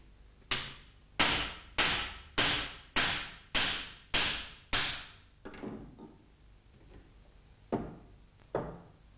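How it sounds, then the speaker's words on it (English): Light hammer blows pushing bearing bushes out of a Walterscheid clutch yoke: eight evenly spaced metallic strikes in a steady rhythm, close and clear, followed by a few softer, irregular taps after a pause. "push bearing bushes out by applying light hammer blows."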